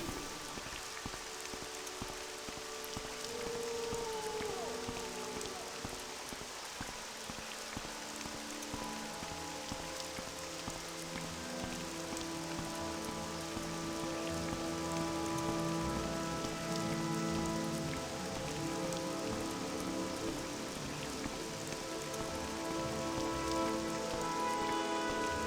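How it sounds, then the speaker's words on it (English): Steady rainfall patters in the video game The Elder Scrolls III: Morrowind, a continuous soft hiss of drops on surfaces with faint ambient tones underneath and no speech. "Why is it always raining?"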